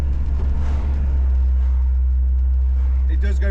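A classic barn-find Range Rover on its first drive, its engine a loud, constant low rumble from inside the cabin as it moves smoothly through the gears.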